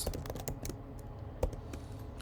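Rapid, steady typing of code on a computer keyboard, a dense run of light clicks with one sharper keystroke near the middle, close and moderately quiet.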